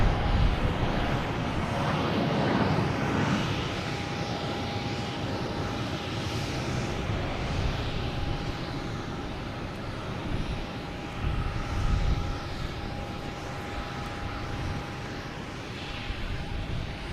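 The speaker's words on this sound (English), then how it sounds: "We have a JetBlue taking off to Nashville," A JetBlue Airbus A320 takes off at Boston Logan Airport, its jet engines producing a broad, sustained roar that stays steady at moderate distance for over fifteen seconds, with faint outdoor ambience.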